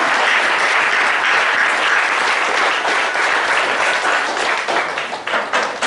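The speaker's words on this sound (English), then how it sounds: "Ladies and gentlemen, please thank the speaker with a round of applause." An audience at a technical session on GST gives the speaker a round of applause, full and sustained clapping throughout that thins slightly near the end.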